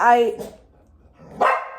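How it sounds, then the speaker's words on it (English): A dog barks twice indoors, a loud sharp bark followed about a second later by another, close to the listener with a quiet pause between. "every time I try to turn on the camera, she barks"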